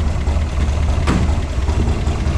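A 1967 Chevrolet Corvette 427 V8 engine idles loudly with a deep, steady rumble and slight uneven pulsing, heard close up indoors without any talking.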